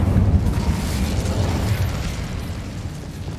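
An Incendio fire spell is cast in Hogwarts Legacy, a loud, deep fiery burst that booms at once and then rumbles and fades away over a few seconds.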